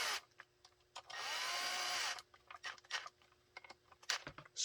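A power driver briefly whirs as long screws are tightened into a holster for a Sig P226 pistol with an X300 weapon light, followed by scattered clicks and handling taps.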